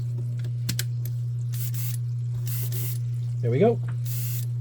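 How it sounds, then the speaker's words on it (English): An air compressor for a paint spray gun runs in a spray booth, giving a steady low hum throughout with intermittent hissing bursts on top. Someone speaks briefly. "the compressor is on behind me"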